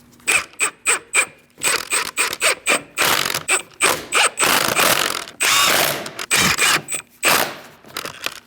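A ratchet tightens rear wheel lug nuts in a crisscross order on a 2000-2006 Mini Cooper. Quick, loud, close bursts of ratchet clicking repeat one after another, with no voices.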